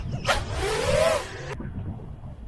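FPV drone motors, tuned with Betaflight 4.3 PID sliders, give one short rising rev that sweeps upward and cuts off abruptly, followed by a faint low hum.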